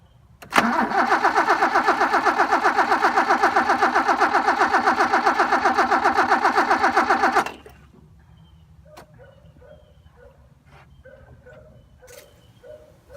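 A BMW E30 engine cranks steadily with a rapid, rhythmic starter whir for about seven seconds after a fuel pump replacement, then cuts out, leaving faint clicks and quiet ambient noise.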